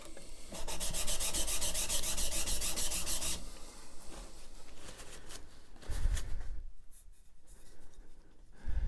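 Steady close rasping strokes of a plane or chisel blade being rubbed to take the burr off during sharpening in a woodworking setup, a dense continuous scrape at first that thins into lighter, intermittent rubs.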